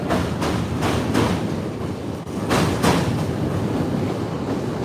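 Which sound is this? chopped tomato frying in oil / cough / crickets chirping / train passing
train passing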